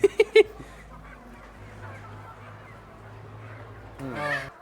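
Guinea fowl and turkeys on a farm: a quick burst of three sharp calls at the start, a quiet stretch, then another harsh, louder call near the end.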